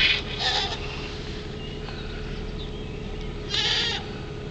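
Several goats at a fence line bleat, two loud nasal cries at the start and another near the end, over a steady low rumble outdoors.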